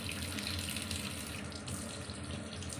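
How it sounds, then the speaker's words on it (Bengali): Tap water running steadily into a kitchen sink while raw chicken is washed, a close, continuous splashing rush with slight shifts as the flow hits the meat. "এবারে চিকেনটা ধুয়ে নিচ্ছে"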